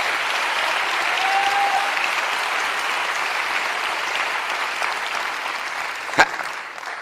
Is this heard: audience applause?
yes